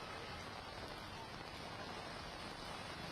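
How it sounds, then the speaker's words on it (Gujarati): Heavy downpour over Surat city during flooding, a dense, constant roar of rain hitting surfaces, unbroken and even throughout with no voices. "સુરત શહેરમાં ધોધમાર વરસાદ, મેઘરાજાની ફરી એકવાર તોફાની બેટિંગ।"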